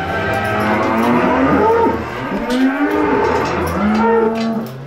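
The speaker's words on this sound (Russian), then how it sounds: "В молочно-товарной ферме деревни Наркан хозяйство «Агроэм» насчитывается свыше 100 дойных коров" Dairy cows on a village dairy farm with over 100 milking cows moo loudly and repeatedly, several overlapping low calls rising and falling against steady barn noise, with no talk.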